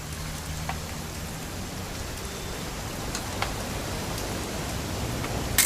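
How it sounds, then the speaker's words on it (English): Steady rain in the video game What Remains of Edith Finch, a constant hiss of drops pattering on surfaces with occasional louder individual drips, even and continuous from start to finish with no voices. "It's gonna rain the whole weekend, isn't it?"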